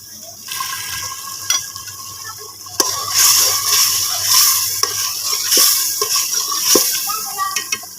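Chicken stir-fries with haleem masala in a pot, a loud bubbling sizzle with occasional sharp scrapes and knocks of a spoon stirring against the metal.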